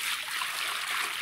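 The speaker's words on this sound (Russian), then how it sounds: "Теперь наливаете воду." Water poured into a cooled kazan (a cast-iron cooking cauldron), a steady broad splashing stream running continuously and fairly loud throughout, with no talking.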